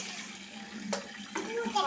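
Water pours and splashes steadily from close by while puja vessels are rinsed, with a couple of sharper splashes near the end.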